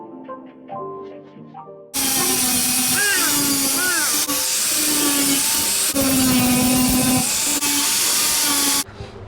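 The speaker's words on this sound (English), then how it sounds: "We just gotta grind all this down so we get the paint all in the jams underneath." A power grinder works over the bare metal body of a Honda Del Sol, cutting in suddenly with a loud, harsh, sustained hiss and whine whose pitch wavers under load, then stops abruptly near the end.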